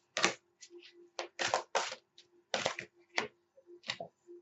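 Tarot cards drawn one by one from a deck, making a close run of crisp, papery snaps and flicks in an irregular rhythm with short pauses between them; no one talks.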